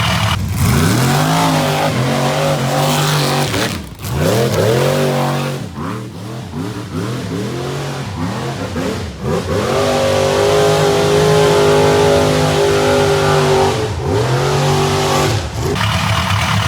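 A Jeep 5.0 stroker engine fires up for the first time and revs hard, loud and close, with repeated throttle blips rising and falling throughout.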